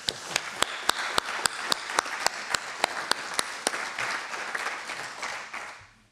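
Audience applause at a lecture on solar energy and climate urgency: a crowd claps steadily at a fairly close distance, with a row of sharp, prominent claps standing out over the first few seconds before the clapping settles into an even wash and fades.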